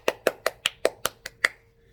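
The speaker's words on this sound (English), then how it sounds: "If you like this story, clap." Eight distinct claps ring out at a steady, even pace, crisp and close, from a single listener after a children's read-aloud story, then stopping into quiet.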